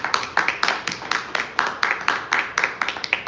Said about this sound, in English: Come on, somebody clap their hands and give God praise.